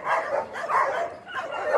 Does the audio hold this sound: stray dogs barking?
yes